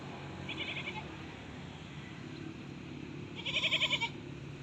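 Several goats bleat in short wavering calls over a quiet farm background, one bleat early on and a louder, repeated bleat toward the end, with no talking.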